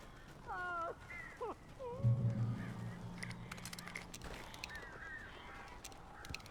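Strange birds cawing and honking in the video game Alan Wake, several harsh calls early on, then a low humming drone, with scattered flapping and clattering noises toward the end.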